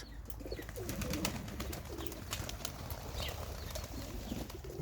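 Pigeons coo softly amid a dense, steady wash of bird noise, with occasional brief flutters.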